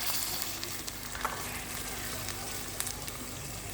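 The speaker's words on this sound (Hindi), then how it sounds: "अब हम इसको अच्छी तरह मिक्स कर देंगे।" Chicken pieces sizzle steadily in hot oil in a kadhai while being stirred for a smoky chicken salan, a continuous close crackle with occasional scrape and clink of the spoon, no talking.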